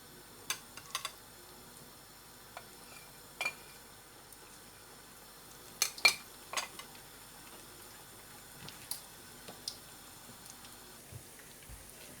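Small pakoras dropped by hand into hot oil, a quiet scattering of sizzling pops and light ticks at irregular intervals over a faint steady frying hiss.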